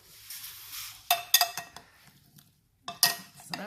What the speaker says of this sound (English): but we just give it a nice big stir